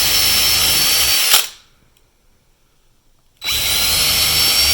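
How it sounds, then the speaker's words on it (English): Handheld power drill boring small holes for screws while wiring a LiFePO4 battery BMS harness, two loud, close bursts of whirring motor separated by a two-second pause of near silence. "Now I'm drilling some little holes in here."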